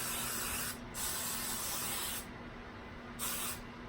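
Close, hissing hairspray aerosol spray in long bursts, pausing briefly between them, with no talking.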